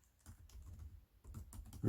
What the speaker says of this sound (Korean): 타이핑 쳐서 들어가고요.